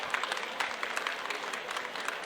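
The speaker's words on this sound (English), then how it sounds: "Can we give Mark a round of applause?" Brief, steady clapping from a modest audience at a panel event, scattered individual claps audible within an even, moderately loud patter.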